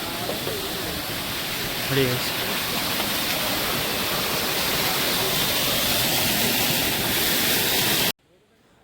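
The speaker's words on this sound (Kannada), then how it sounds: "ಬೆಟ್ಟದಿಂದ ಬರುತ್ತೆ ನೀರು, ಫಾಲ್ಸು" Mountain waterfall beside the Kedarnath trek, a steady loud roaring rush of falling water that fills the whole clip before cutting off abruptly at the end, with a brief spoken word over it.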